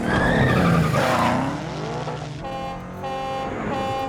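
A car chase with Lamborghinis from the Need for Speed film: engines rev hard and sweep in pitch under loud skidding and squealing tires, then settle into a strained high-revving drone.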